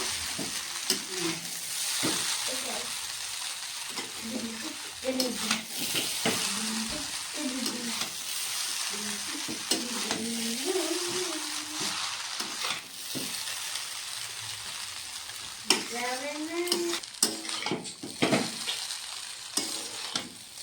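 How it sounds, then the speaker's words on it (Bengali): Chili powder and vegetables for veg chow mein sizzle in a pan while being stirred, a moderate continuous frying hiss broken by irregular scraping and clinking strokes, with no talk over it. "আর কিছুক্ষণ সময় নেড়ে চেড়ে নেব।"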